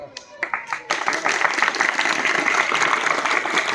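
A school audience in a guidance session breaks into loud, sustained clapping after a few scattered claps, the applause filling the room steadily to the end.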